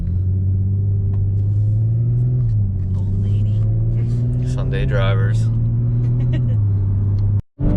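A 2018 Audi S5 pulls hard under load, its engine drone strong and steady from inside the cabin with pitch rising and falling through gear changes, while people talk excitedly over it.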